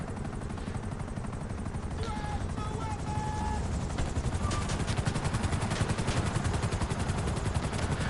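Helicopter rotor beating steadily in GTA Online's Cayo Perico heist, a loud rhythmic chop with game effects and occasional tonal beeps over it.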